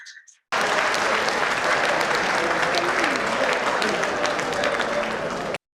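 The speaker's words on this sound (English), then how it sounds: "So please, a round of applause for him, please" Lecture hall audience at a memorial lecture gives a round of applause, starting abruptly after a brief moment of quiet and continuing as a dense, even patter of many hands for about five seconds.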